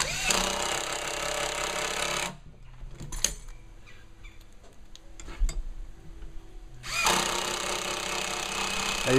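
A power drill drives screws into deck boards for a hidden fastener system, with two long loud whirring bursts at the start and end. Quieter ticking and tool handling fill the gap between them.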